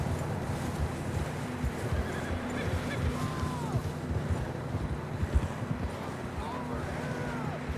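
Horses in Red Dead Redemption 2 whinny and neigh a couple of times over continuous hoof clip-clops and a windy, rumbling background.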